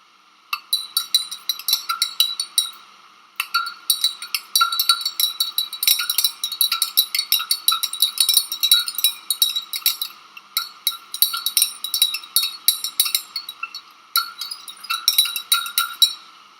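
A glass rod stirring hand sanitizer in a glass, with rapid bright clinking taps against the glass in quick runs broken by short pauses, close and crisp.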